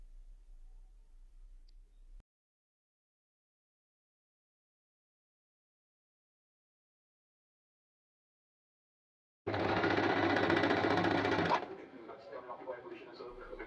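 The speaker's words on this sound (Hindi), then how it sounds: "फोल्ड करके मैं इसके ऊपर सिलाई लगा लूँगी।" A sewing machine runs in one burst of about two seconds, stitching a folded half-inch fabric hem for an inner hijab cap. It is loud and close and comes after a long silence, then gives way to quieter handling noise.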